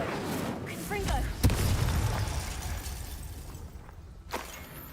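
Confringo blasting spell in Hogwarts Legacy: one sharp explosive crack followed by a rumbling burst that fades, then a smaller pop near the end, set among game ambience with a voice speaking over it.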